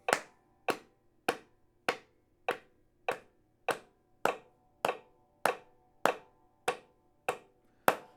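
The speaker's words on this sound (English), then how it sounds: "When you hear the click, you clap." Steady single claps keep time with a metronome, about fourteen sharp, evenly spaced hits in eight seconds, close and dry, each decaying quickly with no voices.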